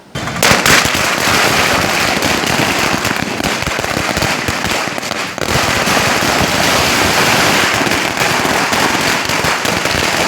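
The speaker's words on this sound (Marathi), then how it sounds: "फटाक्यांची आतषबाजी करत हा जल्लोष साजरा करण्यात आला" Dense, rapid strings of firecrackers explode loudly and continuously at a street celebration, a crackling barrage of sharp bangs that barely pauses from start to finish.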